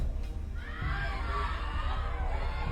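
A crowd shouting and cheering together, somewhat distant and muffled, a sustained wash of voices.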